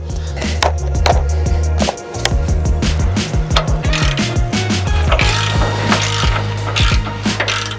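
A ratchet loosens the front bumper bolts on a Toyota 4Runner. Loud, close, rapid ratcheting runs almost continuously, breaks off briefly near the two-second mark, then resumes with clanks and clicks.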